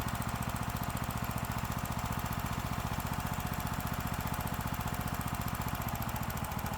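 A Predator 420cc Hemi small engine runs steadily at a fast idle, its rapid, even firing pulses thudding close and loud in an unbroken mechanical rhythm with a buzzing exhaust edge.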